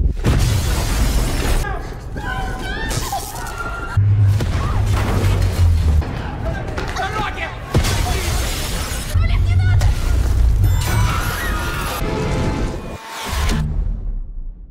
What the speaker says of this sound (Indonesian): Hantaman dari asteroid membuat gedung-gedung di kota tersebut mulai hancur.